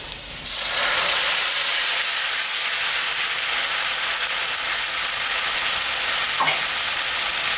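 A spice paste of ground cumin, ginger, dried and fresh green chillies drops into hot oil for a fish curry, bursting into a loud, steady sizzle that holds close and unbroken throughout, with no talking.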